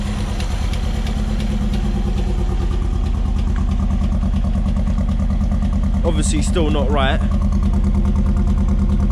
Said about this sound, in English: Let's see how long we can keep it idling for though.